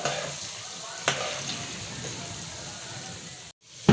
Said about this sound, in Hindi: तो दोस्तों देखिए ये हमारे फ्राई हो रहे हैं, तकरीबन इसको 10 से 11 मिनट लगेंगे फ्राई होने में।